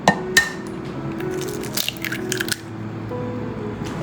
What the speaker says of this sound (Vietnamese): Bây giờ mình đập vào một quả trứng gà